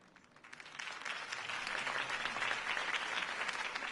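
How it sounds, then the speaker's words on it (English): A crowd applauds in a Batman: The Telltale Series video game scene, the clapping building quickly from quiet into a dense, sustained burst that stays steady to the end. "If only Mr. Wayne, my campaign's largest backer, could have heard that applause"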